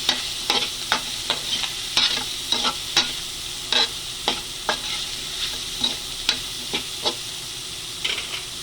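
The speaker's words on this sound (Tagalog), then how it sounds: "Halo lang natin mga kabalangga." A spoon stirs hotdog soup in a pot with repeated scraping strokes at a steady rhythm, close and clear, over a soft simmering hiss.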